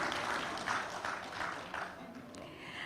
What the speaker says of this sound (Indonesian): Boleh sekali lagi berikan tepuk tangan yang hangat untuk acara kita pada malam hari ini.